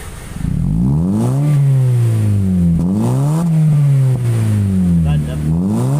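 A car engine revs hard and close, the pitch climbing and falling in several long swells that repeat back to back, loud and continuous with a brief dip near the end.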